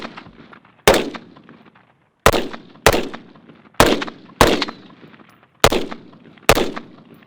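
Rifle gunfire from piston-driven and direct impingement rifles: seven sharp, loud single shots fired at irregular intervals, each with a short decaying echo, nearby and without talk.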